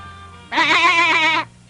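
A cartoon goat gives one loud, clear, wavering bleat lasting about a second, heard alone in a fantasy scene of a dark blue goat on a rock in the sea.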